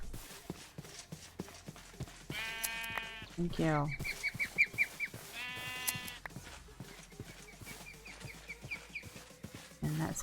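Several sheep bleat in the Minecraft video game, two or three wavering calls spaced a few seconds apart, fairly close, amid soft game footsteps and ambient sounds, with a person speaking briefly.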